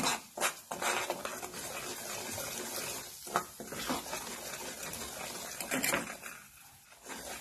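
Semolina (rava) roasting in a pan over a low gas flame for rava besan barfi, a continuous dry stirring and scraping with utensil clinks against the pan, close and moderately loud, no voices.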